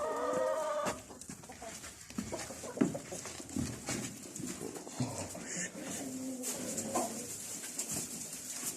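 Chickens clucking and calling in a backyard flock, several birds heard close by with scattered bursts over steady background noise while a person talks intermittently.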